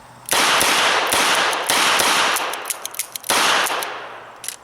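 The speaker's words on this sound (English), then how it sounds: "I'm just pressing out, and I'm just shooting double action, again, to show you that the gun is very controllable in its double action mode." Smith & Wesson 686 .357 revolver fired double action in a quick string of sharp, loud shots, a few closely spaced reports followed by a brief pause and more shots, with ringing echoes between.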